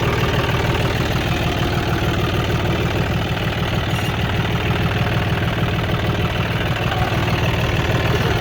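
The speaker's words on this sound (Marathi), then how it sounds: "माऊली भाऊ आता ट्रॅक्टर चालवणार आहे." A John Deere tractor engine runs steadily and close by, a constant low, throbbing idle with no speech, sustained and loud for the whole stretch.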